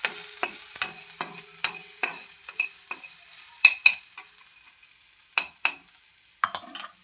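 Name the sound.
stirring and roasting jowar ragi flour for upma in pan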